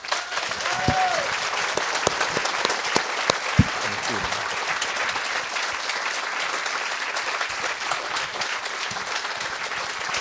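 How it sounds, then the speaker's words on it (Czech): Sustained audience applause at a film school lecture at the Summer Film School in Uherské Hradiště, a dense wash of many clapping hands throughout, steady and enthusiastic, with a brief voice near the start. "ten délka potlesku"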